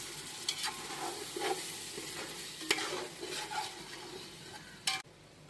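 Chicken biryani stirred in a pot with a ladle, a run of scraping strokes and a few sharp clinks over a continuous frying sizzle.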